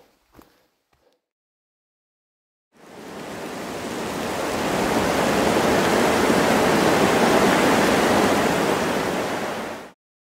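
After a few faint clicks and near silence, a loud broad roar of storm wind on the Sentier de la Mauricie hiking trail swells up and holds steady for several seconds, then cuts off abruptly.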